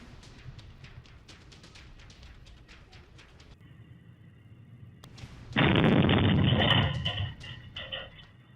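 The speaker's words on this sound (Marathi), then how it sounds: "काडतुसं वाहनात ठेवत असताना हा स्फोट झालेला आहे" Cartridges exploding while being loaded into a vehicle in the Juni Mill compound area of Solapur: a sudden loud, broadband blast lasting about a second and a half, rising abruptly out of low background noise and then tapering off.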